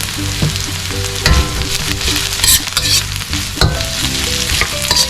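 Ginger frying and being stirred in a pan while giant prawns cook, a steady close sizzle broken by sharp scraping stirs and clatters of a utensil against the pan.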